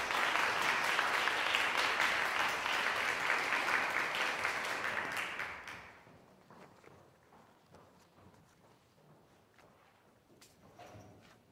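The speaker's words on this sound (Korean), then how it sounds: "여러분 박수 부탁드리겠습니다" An audience at a Korean student event applauds loudly and densely for about six seconds, then the clapping fades to quiet scattered sounds.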